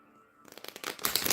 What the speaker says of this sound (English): One more butterfly shuffle.